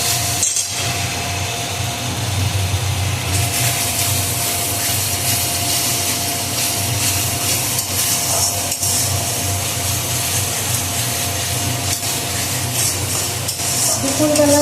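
Fried potatoes sautéing in a pan with ginger, cumin, tomato, turmeric, salt and sugar, a loud, continuous sizzle with stirring and scraping, close up and steady, with no talking.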